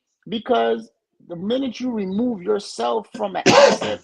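A single sharp sneeze bursts out at the end, right after someone speaks calmly in a close, quiet indoor setting.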